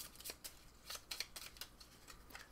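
A large deck of board game cards for Robinson Crusoe is shuffled, producing a quick run of soft, crisp papery riffles and flicks close by, with no talking.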